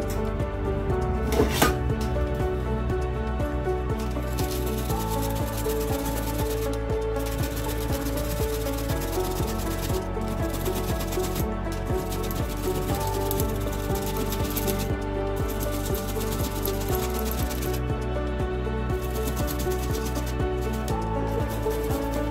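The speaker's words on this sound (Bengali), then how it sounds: "এখন আমি এই গ্রেটারটা দিয়ে গ্রেট করে নেব।" Bottle gourd being grated by hand on a metal grater, a close, continuous rasping scrape in steady repeated strokes with brief pauses between them, no talking.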